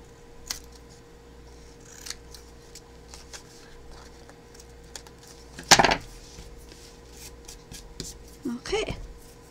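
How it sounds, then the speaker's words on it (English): Scissors snip away the edges of felt while a handmade card is being assembled, a few quiet cuts and handling rustles at close range, with louder clattering bumps near the middle and the end. "And then I'm just going to cut off the edges."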